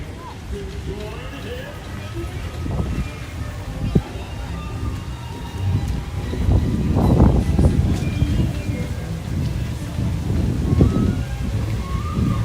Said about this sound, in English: there's a lot of wind in the stream